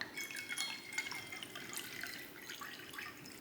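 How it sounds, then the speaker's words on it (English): Sparkling water poured over ice into an unchilled glass fizzes and crackles softly, with a steady stream of faint pops and drips close by. "Topping it with sparkling water."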